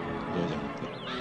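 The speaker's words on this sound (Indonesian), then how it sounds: "Itu suara Raja Wali Raksasa." Radio drama sound effect of a giant eagle's cry, a brief loud, wavering, shrill call lasting about a second and heard up close.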